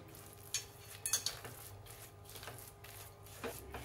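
Spoon scraping and clinking against a pan while cardamom powder is stirred into a fresh coconut burfi mixture, a few sharp metallic taps over soft shuffling, close and fairly quiet.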